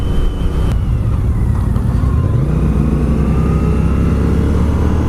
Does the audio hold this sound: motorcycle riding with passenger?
yes